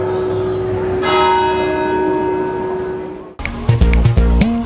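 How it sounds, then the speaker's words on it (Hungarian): A church bell in Rijeka, Croatia rings with a long, sustained resonant tone that hums and decays, then gives way to rapid, louder strikes near the end, all fairly close and without talk. "Itt ez egy harang, mögöttem pedig egy ferde torony."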